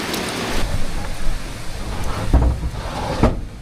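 Heavy storm rain pours steadily around a car parked at the Hat Som Paen reservoir in Ranong, a dense, continuous hiss with a few dull knocks, no voices.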